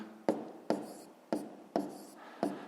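Pen writing numbers on paper while a fifth-grade multiplication exercise is worked out: five short, scratchy strokes fall at uneven intervals, close and fairly quiet, with no talking over them.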